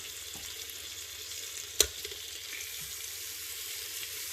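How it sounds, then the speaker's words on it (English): Chicken pieces for Hainanese chicken rice sear in hot oil, a continuous crackling sizzle with a sharp clink partway through, close and alone without talk. "As you're searing the chicken, you can see the chicken is releasing even more oil."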